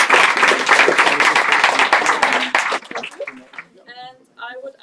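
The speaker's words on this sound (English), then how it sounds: "Another round of applause for your participation." An audience at an association's national assembly in Düsseldorf claps in a brief burst of dense applause. The clapping thins out after a few seconds, and a voice begins talking as it fades.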